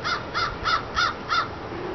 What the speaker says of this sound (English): Crows, of course, are upset, as you can hear.